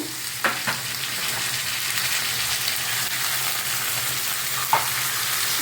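Three medium onions sizzle steadily in hot oil in a pan for prawn curry, a loud continuous fry with a few sharp clinks of a stirring spoon against the pan.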